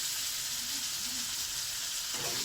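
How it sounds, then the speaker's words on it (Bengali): A paste of green chili, tomato and ginger sizzles in a frying pan that already holds fried pointed gourd and potatoes. The broadband hiss is steady and fairly loud, with no talking, and a brief shift near the end. "এরপর আমার এখানে কাঁচা লঙ্কা, টমেটো আর আদা পেস্ট করা আছে, এটা আমি দিয়ে দেওয়া হবে।"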